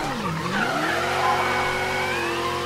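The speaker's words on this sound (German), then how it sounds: "Boah, wie die quietschen, die Reifen." Car tires squeal loudly in Mafia 3, a long sustained screech with a sweeping pitch that rises and bends over a steady engine drone, alone without talk.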